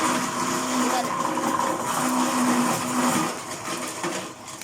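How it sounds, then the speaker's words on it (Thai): Steady mechanical grinding and whirring from a grass-grinding machine shredding grass into fine feed for an elephant, loud and continuous with a droning hum, no talking. "หญ้าจะบดให้เป็นละเอียดละเอียด"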